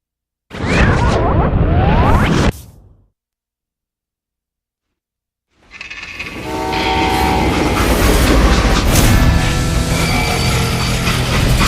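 Train in the Western shooter Call of Juarez: Gunslinger, a loud rumbling freight train with clattering, screeching metal that runs for about two seconds, cuts to silence, then returns as a sustained roaring run through the rest.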